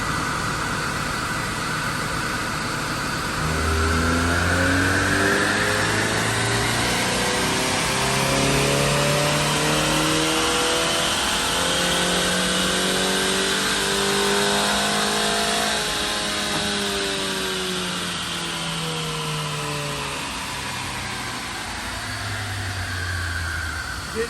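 A 2019 Mazda 3 AWD on a chassis dyno runs through a full pull, the engine climbing steadily through the gears in rising revving sweeps, loud and sustained with a droning whine and no voices.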